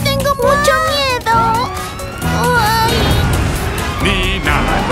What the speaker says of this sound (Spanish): ¡El camión de bomberos está aquí!